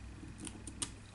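Scissors snipping through paper while trimming a decorative album cover, a few quick soft cuts close by in a quiet room.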